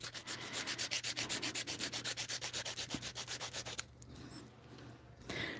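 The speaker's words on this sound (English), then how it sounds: "enough force to shape that acrylic, because acrylic is not easy to file" An acrylic nail is filed and shaped with rapid back-and-forth strokes, a close, steady rasping pulse of about two dozen even scrapes that stops abruptly, leaving a quieter, softer scuffing afterward.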